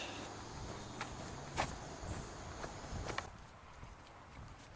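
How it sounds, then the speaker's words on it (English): Footsteps in the Marble Hornets web series, a few soft, uneven steps with sharper knocks scattered across a faint, hissy background, no voices heard. "I keep hearing footsteps."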